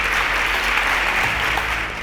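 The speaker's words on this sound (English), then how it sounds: "A round of applause for them." Short burst of studio audience applause on a Nigerian student quiz show, dense and steady over a low background hum, fading slightly at the close.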